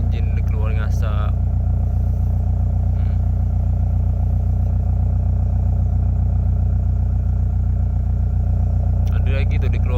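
A car engine idles steadily during a carbon flush with 3E Booster, giving a constant low rumble throughout, with brief clatter and someone talking over it near the start and the end.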